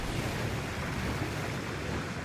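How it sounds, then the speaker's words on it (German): Water rushes in to refill a lake in the video game Paper Mario: The Origami King, a steady, dense wash of surf-like roaring that stays loud and even throughout. "Und jetzt füllen wir den See erneut mit Wasser."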